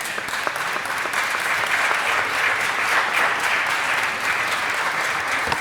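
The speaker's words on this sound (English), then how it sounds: "Please give her a round of applause." A city council chamber audience applauds a newly appointed commissioner, giving a sustained, even round of many hands clapping that fills the room with no speech over it.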